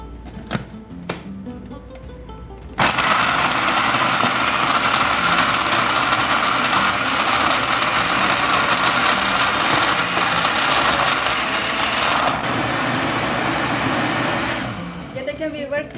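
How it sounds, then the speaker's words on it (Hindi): Juicer blender whirring at high speed as it grinds almonds with about half a cup of water into a paste, a loud steady motor roar that kicks in after a few seconds of light handling noise and cuts off near the end. "अब इन सब बादाम को हम जूसर ब्लेंडर में डालेंगे।"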